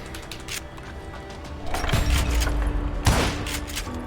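Gunfire in Call of Juarez: Gunslinger, a dense burst of shots and booms in the middle followed by one loud crack, over a low ambient game bed with no talk.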